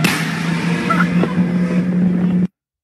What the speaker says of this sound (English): I love it, this acceleration and the exhaust sound is very amazing.